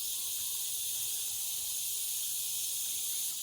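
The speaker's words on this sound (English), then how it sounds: "The hot air resonates with the sound of cicadas, insects known for their loud, buzzing calls" Cicadas buzz in hot air, a steady loud high-pitched drone that fills the whole stretch with no break or pause.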